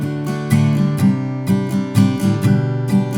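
An acoustic guitar strums the chords of a song, loud and close, with rhythmic strokes falling roughly every half second over ringing harmonics.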